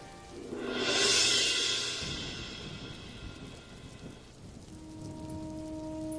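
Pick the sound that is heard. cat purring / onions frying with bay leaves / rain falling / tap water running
rain falling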